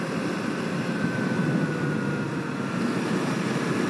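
A 2025 KTM 390 Enduro R motorcycle cruising in sixth gear at about 60 mph, giving a steady, even engine drone mixed with rushing wind noise, with no talking.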